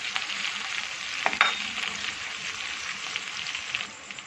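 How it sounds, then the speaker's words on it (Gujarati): Green chillies sizzle as they are sautéed in a pan for a fasting-day suran and potato dry dish. The frying hiss is steady and close, with a couple of brief scraping stirs and no talk. "મરચાં સાતળી લઈએ"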